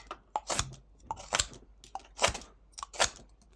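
A knife making rough whittling cuts into wood, four or five sharp crisp shaving strokes at a steady pace, close up with quiet gaps between them.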